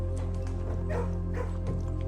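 A dog in the Blue Prince video game gives a few close, yipping barks with a whimpering edge over a continuous low game drone.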